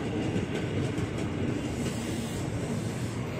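A ten-car KRL commuter train, a JR 205 series set, rolls past close by with a continuous loud rumble and wheel noise.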